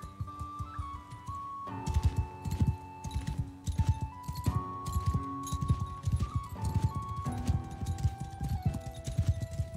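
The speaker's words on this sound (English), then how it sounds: "How do I get off my horse?" Horse hooves clip-clop at a steady trotting rhythm in a video game, close and clear beneath ongoing background music, with no voices.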